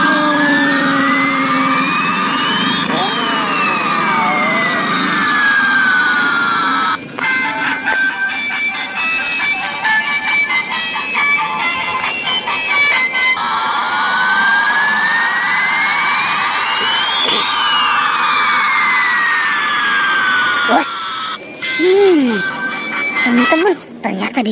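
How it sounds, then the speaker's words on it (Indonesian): An ambulance siren wails loudly in long rising and falling sweeps that run almost continuously. A stretch of rapid electronic warbling interrupts it midway, and the wail returns before it cuts out near the end. "ternyata di sini ada mobil ambulan ya"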